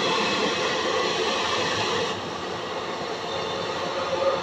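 Hampi Express train on Indian rail line rolling past at a platform, a steady loud broadband rumble of wheels and carriages throughout, easing slightly midway, with no talk.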